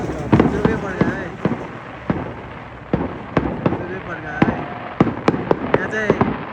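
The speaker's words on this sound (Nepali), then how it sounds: "बिजोकै पड्का है" Firecrackers and fireworks burst outdoors on a cold night near a restaurant, a rapid string of sharp, loud cracks at uneven intervals with voices faintly underneath.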